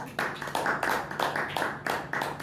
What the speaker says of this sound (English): welcome him with warm round of applause